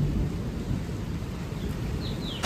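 Heavy rain pours down in a steady, dense roar that stays constant throughout, with no voices.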